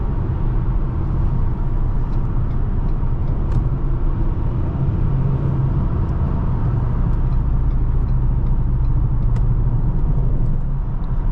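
A 2019 Ford Taurus SHO cruises on the highway under light throttle, giving a steady low engine and road rumble with constant tyre noise and no talking.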